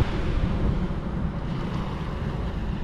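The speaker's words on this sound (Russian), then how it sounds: "Шум волн." Atlantic Ocean surf on a wild beach, a continuous low wash of waves mixed with wind buffeting the microphone, fairly near and steady with no talk.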